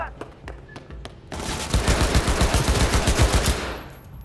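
Rapid bursts of automatic gunfire from a gun in Cyberpunk 2077 rattle loudly for about two seconds, preceded by a few scattered single shots and fading into quieter noise afterward.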